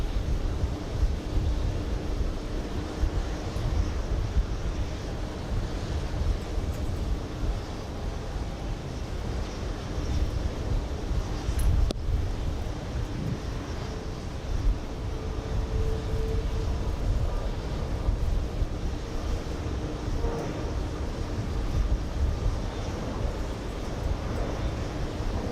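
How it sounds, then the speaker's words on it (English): Strong, gusty wind buffets the open air at JFK airport, a steady rumbling roar with low-frequency gusts that persists throughout, with faint distant aircraft noise mixed in and no talking. "Wind is horrible."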